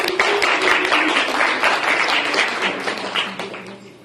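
An audience applauds at an event before a certificate presentation, a loud, full wash of many hands clapping close by, gradually easing toward the end with some voices underneath.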